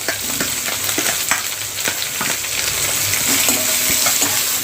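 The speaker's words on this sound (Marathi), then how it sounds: "कांद्याला ना चांगला कलर येईपर्यंत आपल्याला चांगला असा फ्राय करून घ्यायचा आहे कांदा" Chopped onion fries in hot oil, a loud, close, continuous sizzle broken by frequent scraping clicks as it is stirred, with no voices.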